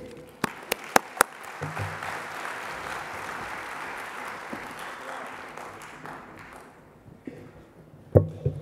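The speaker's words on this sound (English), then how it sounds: "let's give him a big round of applause and welcome Sanjay to the stage" A conference audience at a TiEcon 2014 keynote applauds to welcome the speaker, a few sharp early claps swelling into sustained clapping that fades out, followed by a louder thump near the end.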